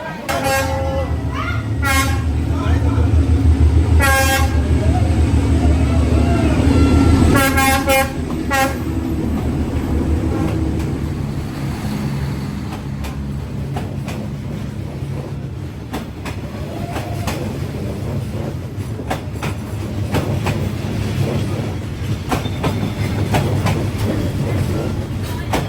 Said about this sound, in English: Finally, the train is coming.